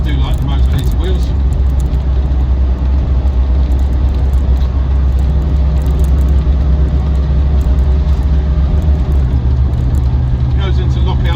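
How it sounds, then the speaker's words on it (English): A restored Land Rover Defender 90 50th Anniversary with a 4.0 V8 and automatic gearbox cruises at speed, its steady engine drone and road roar loud and continuous as it settles into top gear, with a faint shift in tone partway through. "Goes into lockout top gear as it should at around 55 miles an hour."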